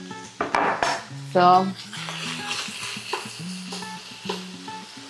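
A pan of carrot and pepper for a stuffed pumpkin filling is stirred with a utensil, metal scrapes and clinks over a faint sizzle, with a brief word spoken near the start.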